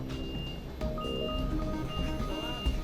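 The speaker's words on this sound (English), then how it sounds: "the truck is then reversed underneath it" A truck reverses beneath a load on a trailer, its backup alarm sounding a few evenly spaced high electronic beeps over a low engine idle, fairly close and clear.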